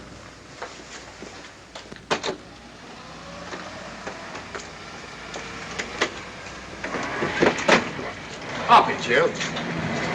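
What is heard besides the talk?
train travelling on rails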